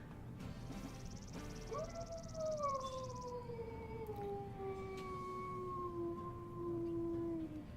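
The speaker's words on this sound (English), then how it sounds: "And this is her howl." A long, rising then slowly falling wolf howl from the video game WolfQuest holds steady over a low background hum, sounding clear and close.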